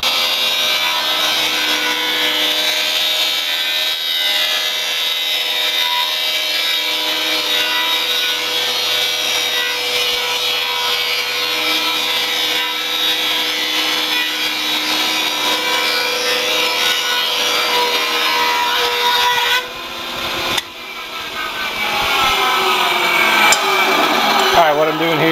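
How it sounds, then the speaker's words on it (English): A woodworking power tool planes walnut trim down to three-quarters of an inch with a loud, continuous whirring and rasping hum that holds steady, then dips briefly before resuming. "So I'm trimming, planing this down to 3/4 of an inch."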